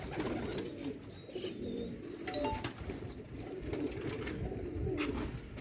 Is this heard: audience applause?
no